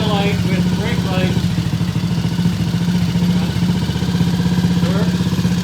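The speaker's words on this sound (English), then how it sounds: "the bike is idling, it has a high idle, but it is idling" A T20M motorcycle sits idling with a high idle, its engine holding a steady, fast, slightly clattery beat throughout while someone talks over it.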